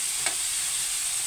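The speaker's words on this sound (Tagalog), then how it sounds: "So, gisa-gisa lamang." Chicken sautéing in a hot pan while being stirred, giving a steady bright sizzle throughout with one brief scrape of the utensil early on.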